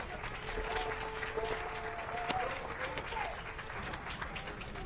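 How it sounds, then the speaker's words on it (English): An audience claps at a groundbreaking ceremony for a micro-business mixed-use facility in Las Vegas, a moderate steady wash of applause with a few distinct sharp claps and some crowd murmur mixed in. "let's give him a round of applause as well"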